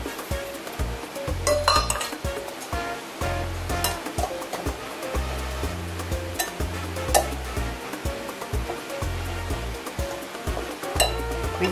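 Two eggs and white sugar are whisked in a bowl with quick, steady strokes, a rhythmic swishing and tapping of the whisk against the bowl that keeps going throughout.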